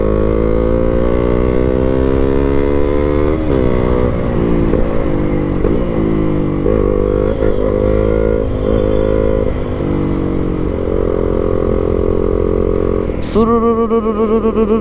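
A motorcycle ridden on a road in Nepal, its engine droning loud and steady with shifting gears and throttle changes throughout, with no talking.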